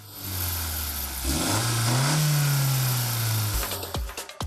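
A Honda Civic's 1.5-liter four-cylinder turbocharged gasoline engine pulls up through the revs under acceleration, a steady loud drone that climbs in pitch, holds, then drops away near the end with a few sharp knocks.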